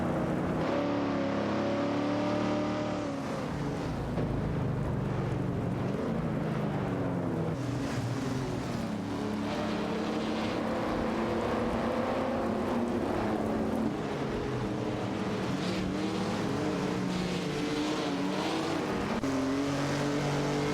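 A 1966 Chevrolet Chevy II Nova SS and a 1970 Ford Maverick race in a video game, engines droning and revving continuously with shifting pitch, loud and sustained without talk.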